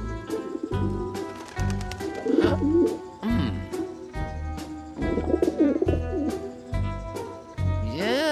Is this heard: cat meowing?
no